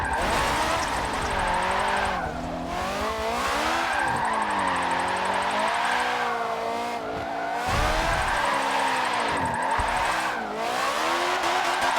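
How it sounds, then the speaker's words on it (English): A drift car slides through repeated runs, its engine revving up and down in long loud sweeps while the tyres squeal and skid, close and continuous with no talk. "This thing definitely drifts better than the old one"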